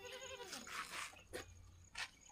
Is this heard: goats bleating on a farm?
yes